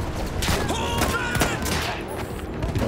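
Rapid gunfire crackles in Battlefield 1 as a pistol is tried out amid a chaotic battle, sharp repeated shots layered over dense, continuous combat noise.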